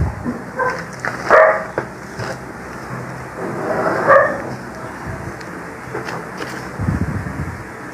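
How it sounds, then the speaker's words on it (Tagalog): A dog barks in short, scattered yips and barks from a little distance inside a home, among household noise. "Ang ingay ng aso ko ah."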